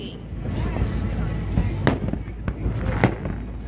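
Fourth of July fireworks over Tempe Town Lake in Tempe, Arizona, heard as a steady low rumble with several sharp distant bursts and crackles, set against wind noise and crowd murmur.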